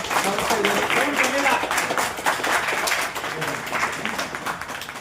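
A crowd claps for newly elected office bearers of the Dalit Sena in Hosakote taluk, a dense, sustained applause that stays fairly loud, with voices mixed in beneath it.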